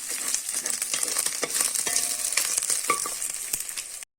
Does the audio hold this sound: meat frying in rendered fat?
yes